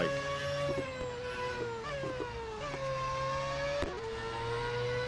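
Sustained car engine note from Real Racing 3, the racing video game, holding steady harmonics that dip and climb with several gear changes, loud and continuous with no talking.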